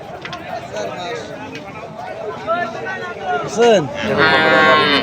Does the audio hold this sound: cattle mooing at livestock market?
yes